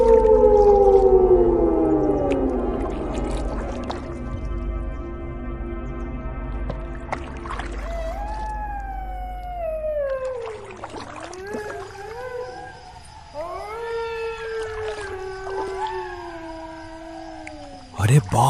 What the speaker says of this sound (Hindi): ये सियार कितनी डरावनी आवाज में चिल्ला रहे हैं।